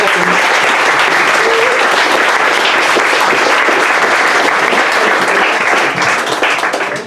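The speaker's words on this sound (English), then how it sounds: "if you'd like to give him a round of applause" Sustained crowd applause fills the whole stretch at a school athletics prize-giving honouring a 600 metres race winner, dense and steady from start to finish, fading slightly at the very end.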